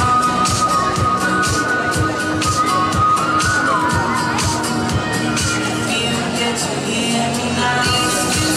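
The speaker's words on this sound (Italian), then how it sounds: "Accogliamola con un applauso strepitoso" Audience cheering and applauding a seventeen-year-old contestant walking the runway at an Italian beauty pageant, a loud continuous roar of claps and shouts with music running underneath.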